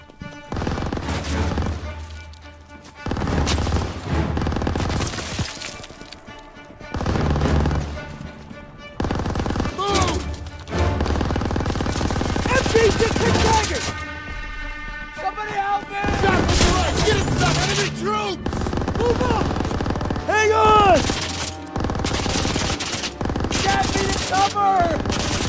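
Machine gun fire in a WW2 video game set in Aachen, Germany, with loud bursts of automatic fire and booms coming in repeated waves amid battle noise, and shouting voices between them.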